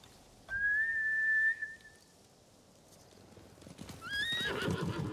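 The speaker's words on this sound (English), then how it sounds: "Bastards scared off the horses." Samurai horses in the video game Ghost of Tsushima: a long, clear whistle sounds first, then a quiet pause, then a horse whinnies and hooves clip-clop away, fairly faint.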